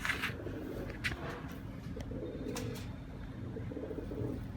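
Soft, low coos from Taddy pigeons repeat a few times, gentle and close-ish, over a steady background murmur with a couple of faint chirps.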